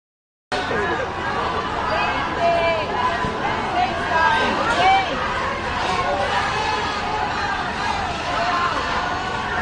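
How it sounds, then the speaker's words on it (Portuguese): Crowd of Brazilians booing and shouting "thief" at Lula on his arrival in New York, a dense, continuous babble of overlapping voices and shouts held at a steady level throughout. "Um grupo de brasileiros recebeu o petista com vaias e gritos de ladrão"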